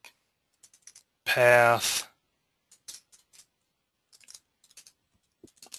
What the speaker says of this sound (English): can't type with an audience